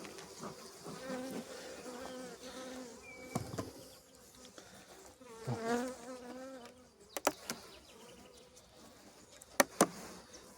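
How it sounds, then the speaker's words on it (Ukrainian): Honey bees buzz around a hive at an apiary on a cool spring morning, a close, wavering drone of wingbeats rising and falling as individual bees pass near, with a few sharp clicks and knocks toward the end. "бджоли може не дуже спокійно себе довести"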